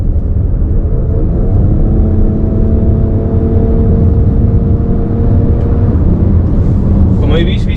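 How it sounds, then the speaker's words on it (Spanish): Inside the cabin of a 2023 Nissan X-Trail e-Power, the combustion engine drones steadily under full acceleration, a low rumble with a faint rising whine that holds for several seconds before a brief sharper noise near the end. "el sonido del motor de combustión no es apenas perceptible"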